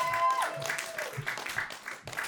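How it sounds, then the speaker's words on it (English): Scattered clapping from a small comedy roast battle audience, with a rising electronic tone at the start and some voices mixed in. "Start clapping right now."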